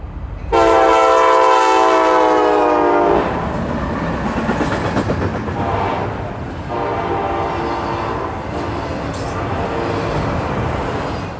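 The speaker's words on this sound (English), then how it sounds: "I caught my last C40-9 trailing behind a Kansas City Southern SD70 Mac on 212 at Sinking Spring." A GE C40-9 locomotive trails a Kansas City Southern SD70MAC freight train, opening with a loud sustained horn blast, then a steady rumble and clatter of the passing train that stays close throughout.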